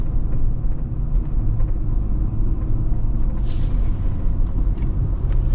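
A Ford Expedition with the 3.5 engine drives along a freshly repaved road, heard from inside as a steady low rumble of engine and road noise without talk.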